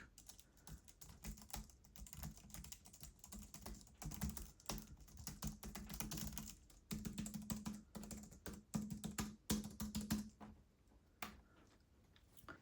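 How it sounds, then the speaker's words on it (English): Rapid, continuous clicking of keys on a Logitech MX Keys wireless keyboard, close and fairly soft, with an uneven rhythm and a brief pause near the end. "I'll give you a little clip of me typing it so you know what it sounds like"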